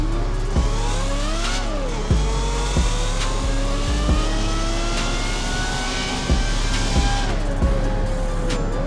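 A roughly 1,000-horsepower Lamborghini in a video game accelerates hard, its engine pitch climbing and dropping through repeated gear shifts with sharp shift clicks, loud and continuous, no talk.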